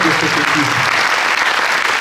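An audience applauds at a political gathering, a loud, dense wash of clapping. A voice talks over it at the start before the clapping carries on alone.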